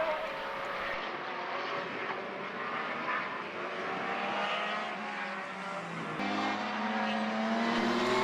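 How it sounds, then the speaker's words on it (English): A Turbo Radical and a World Series race car drag down the main straight at Mondello Park, engines screaming loudly and climbing in pitch, with a sharp shift in tone as they pass. "This was some drag race between the Turbo Radical and the World Series car down the main straight"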